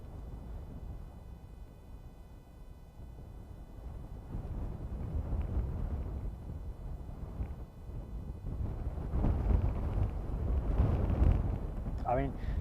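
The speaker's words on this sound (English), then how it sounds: "To give you an idea of how windy that is, my microphone is actually encased in a wind protector" Strong gale wind at an airport buffeting a microphone fitted with a wind protector, a loud continuous low rumbling roar that swells and surges toward the end, with a voice speaking beneath it.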